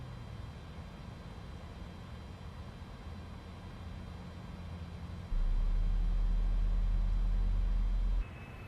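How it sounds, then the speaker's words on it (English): Jet engine in a flight simulator game spooling up: a steady broadband roar with low rumble that jumps sharply louder for a few seconds before easing back, no voices. "Guys can hear the engine spooling up."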